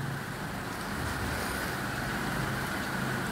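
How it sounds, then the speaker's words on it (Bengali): A car passes along a waterlogged road in heavy rain, its tyres adding a broad wet rush to the steady downpour. "এক একটা গাড়ি গেলে বোঝা যায়"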